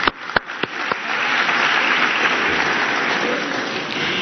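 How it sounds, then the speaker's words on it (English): A few sharp, separate claps open into loud, continuous applause from the audience at a 2018 Islamic school graduation in Ottawa, which stays strong and unbroken to the end. "Please give a round of applause for all our teachers, administrators, and definitely honorable."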